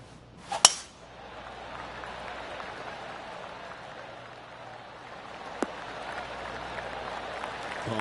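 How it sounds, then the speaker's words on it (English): In the video game PGA Tour 2K23, a sharp clink opens, followed by a soft, distant patter of polite golf clap applause that lingers quietly, with one more faint tap midway. "Oh, golf clap."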